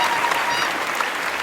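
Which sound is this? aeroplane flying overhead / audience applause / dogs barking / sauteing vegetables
audience applause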